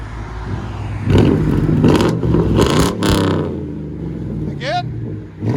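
A Mercury Grand Marquis 4.6L V8 sits parked beside a Chrysler 300 S Hemi and revs hard several times, its loud, throaty engine surging and falling over a steady idle rumble, with a short high chirp near the end.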